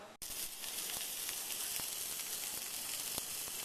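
Bacon-wrapped jalapeño poppers stuffed with cream cheese sizzle steadily on a grill, a constant close hiss broken by faint scattered pops.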